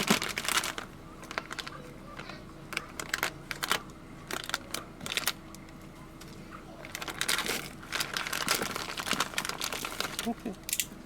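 Plastic packaging around a carburettor electric fuel pump being cut and pulled open, with irregular crinkling and crunching bursts close to the microphone and pauses between them.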